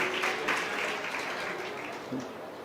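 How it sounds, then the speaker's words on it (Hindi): Crowd at an Indian government health programme event applauding to welcome the chief minister, a soft, fairly distant spread of clapping that fades gradually over a few seconds amid hall ambience and a faint public-address tone. "एक बार जोरदार ताली बजाकर सभी लोग अभिनंदन करेंगे"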